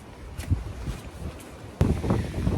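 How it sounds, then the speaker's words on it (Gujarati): Strong gusty wind buffets the microphone outdoors, a steady low roar with a sharp, louder blast near the end; no voices over it. "બહુ જ પવન છે, બહુ એટલે બહુ જ બધો પવન છે."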